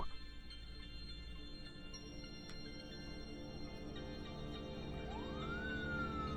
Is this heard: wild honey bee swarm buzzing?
no